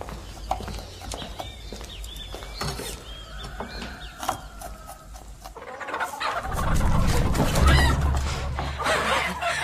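A chicken being caught, clucking and squawking in agitated bursts close by, with scuffling and flapping that swells into a louder burst of noise partway through.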